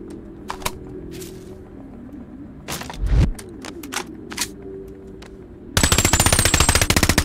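Gunfire in the VR game Boneworks: scattered single shots and clicks, then a loud, fast burst of automatic fire at the end, with no talking over it.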